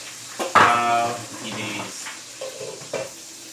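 Onion dropped into hot oil and butter in a pan sets off a loud sizzle that settles into steady frying, with some stirring and pan clatter and a brief voice in the background.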